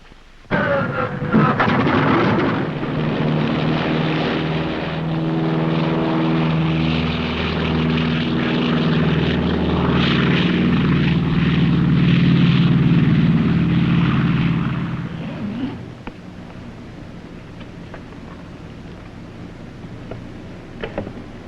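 A loud, steady propeller drone fills the cabin of an early-1950s propeller airliner during takeoff. It swells and holds for about fifteen seconds, then drops to a lower, quieter engine hum.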